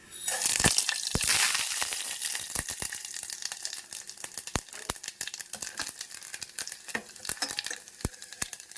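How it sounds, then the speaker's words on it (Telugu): Tempering spices of mustard seeds, urad dal, cumin and fenugreek hit hot oil and sizzle loudly, with sharp popping crackles scattered throughout as the seeds burst, close and alone. "తాలింపు దినుసులు వేద్దామండి ముందుగా తీసి పెట్టుకున్న ఆవాలు మినపప్పు జీలకర్ర మెంతులు"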